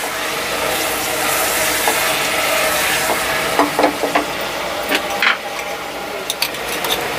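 Chopped garlic and ginger sizzle steadily in a hot pan for mutton, a constant frying hiss with soft scraping and clicking from stirring toward the end.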